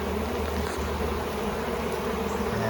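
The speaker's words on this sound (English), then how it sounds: "there's a lot of bees in there" Honeybees swarm in and around a hive box, a continuous low, dense buzzing hum from many insects nearby, steady and unbroken, with no one speaking.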